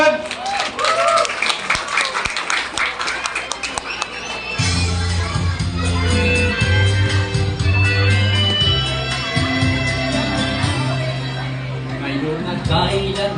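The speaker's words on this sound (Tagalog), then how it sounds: "Bigyan natin ng malakas sa palakpak" A crowd claps and cheers for a singer performing a song rendition, broadband applause over the first few seconds before a sustained musical backing with singing takes over, loud and close.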